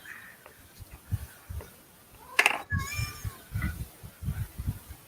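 Indoor cat meowing, one sharp loud cry in the middle followed by softer mews, with someone talking quietly around it.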